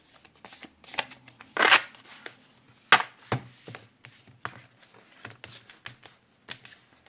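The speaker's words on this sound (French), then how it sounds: "Je mélange parce que le jeu vient d'arriver" A newly arrived deck of Sibylle des Salons fortune-telling cards is shuffled by hand, giving close, crisp bursts of riffling and tapping in an irregular rhythm, with quiet gaps between them and no talking.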